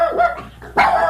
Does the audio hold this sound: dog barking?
yes